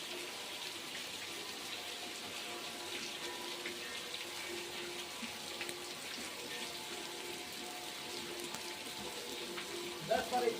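Rain falling outdoors in a village as a continuous wash of hiss and patter, fairly even throughout, with faint voices in the background and a slightly louder burst near the end.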